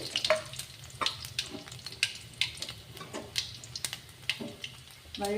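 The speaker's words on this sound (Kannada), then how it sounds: "ಈಗ ನೋಡ್ರಿ ಬೆಳ್ಳುಳ್ಳಿ ಹಾಕ್ತೀನಿ" Garlic frying in a pan for Kannada-style masala churumuri, a steady sizzle broken by repeated sharp stirring scrapes and clicks at a close, moderate level, with no talking.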